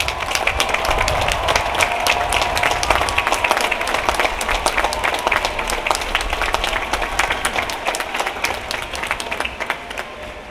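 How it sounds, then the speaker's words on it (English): Loud, sustained applause from a large audience at a university graduation ceremony fills the whole stretch, a dense wash of many hands clapping that tapers only slightly toward the end. "please stand so we can give you a well-deserved round of applause."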